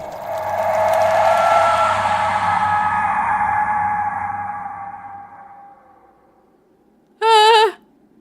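An evil-sounding bird call in the video game Tangle Tower arrives as a short, warbling electronic shriek, loud and close. It follows a long fading ringing tone and then a near-silent pause.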